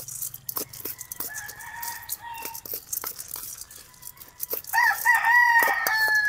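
Chickens cluck softly during feeding time on a farm, then a rooster crows loudly and clearly in the final seconds, standing out from the flock.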